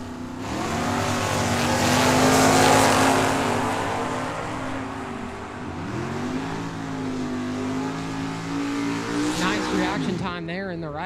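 A painted Camaro drag racing down a dragway at a trackside event, engine roaring loud and steady with a rising, sweeping pitch as it passes, under a public-address announcer talking throughout.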